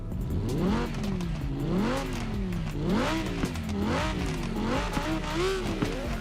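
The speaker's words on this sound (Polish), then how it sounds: "dźwięki w tej grze, akurat tych aut, są po, po prostu kozackie" An Audi R8 engine in the video game Forza Horizon 4 revs repeatedly, the pitch swooping up and down through gear changes, with pops and crackles from the exhaust, loud and continuous.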